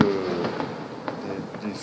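Fireworks go off at a nighttime show after a street parade with a puppet. Several distant thuds and crackles are heard through a steady crowd and ambient noise, with some voices in the background.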